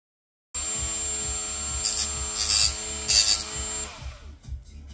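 A handheld grinder works against a piece of aluminum, producing a steady whirring grind with rhythmic rasping strokes and a sustained high whine, loud and close, then tapering off near the end.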